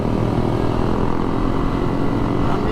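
A group of 24 to 25 motorcycles rides along a road, their engines merging into a loud, dense, continuous drone close by, with no break in the noise.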